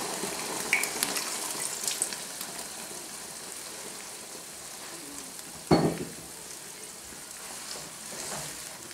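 Port splashed into a hot pan with duck on a Cobb BBQ sizzles with a steady, moderate hiss, broken by a brief clatter near the middle.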